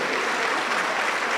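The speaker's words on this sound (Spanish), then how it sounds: "Aplauso para Cristo Jesús" A church congregation claps steadily and loudly together during a worship service, a dense continuous wash of many hands with no pauses and no voices standing out.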